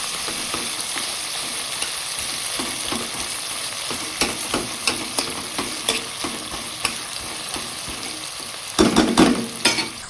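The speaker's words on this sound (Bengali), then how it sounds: "তিনটে কাটা পেঁয়াজ দিয়ে ভালোভাবে এটাকে নেড়ে নিতে হবে যাতে মশলা এবং তেলের সঙ্গে পেঁয়াজটা ভালোভাবে মেশে" Three chopped onions fry in oil with spices for mutton bhuna, crackling steadily while a spoon scrapes and stirs in repeated strokes, with a louder burst of sizzling near the end and no talking.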